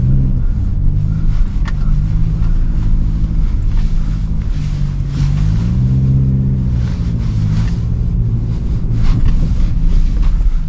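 A Ford Ranger Wildtrak pickup drives through a sand course, its engine giving a loud, steady low rumble with a gentle rise and fall in revs, heard from inside over wind noise, with no talk.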